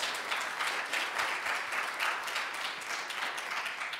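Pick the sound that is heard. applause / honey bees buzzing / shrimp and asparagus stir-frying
applause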